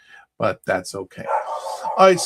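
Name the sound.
dog barking in the background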